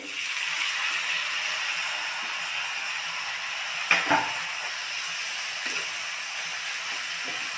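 Tomatoes fry in a pan for a hotel-style tomato chutney, giving a steady close sizzle and hiss throughout, with a brief clatter of stirring near the middle.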